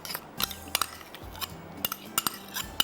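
A spoon stirs chili sauce, tomato ketchup and mayonnaise together in a bowl, giving scattered light clinks and scrapes at an irregular pace, close and fairly quiet.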